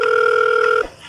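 A single sustained electronic telephone ring tone sounds loudly and evenly for under a second, then cuts off.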